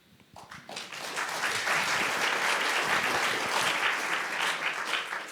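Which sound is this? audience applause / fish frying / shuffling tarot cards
audience applause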